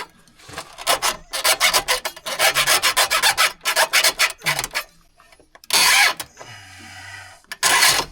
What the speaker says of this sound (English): see if I can cut this cable off